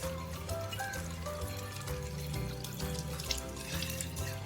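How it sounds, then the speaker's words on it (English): Tap water runs steadily into a sink while hands are wetted for handwashing, a continuous close splashing flow with no talking. "we will be wetting our hands with water"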